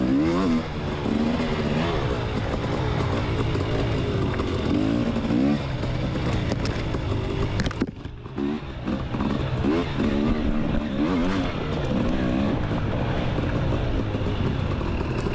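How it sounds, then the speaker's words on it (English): A 320 dirt bike races through the woods at Walnut Grove, its engine revving hard and close throughout, rising and falling with throttle and gear changes, with a brief dip in the middle. "Doing a little woods racing."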